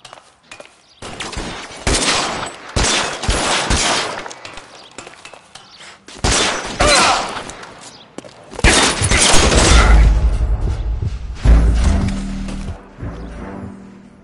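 Rapid bursts of gunfire in a PS4 video game, loud and close, arriving as repeated volleys separated by brief pauses, with heavier rumbling booms toward the end.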